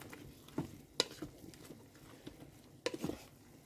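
Potatoes and lettuce being stirred in a pot for lettuce soup, giving soft, irregular scraping and clacking strokes with a few sharper knocks, close and fairly quiet.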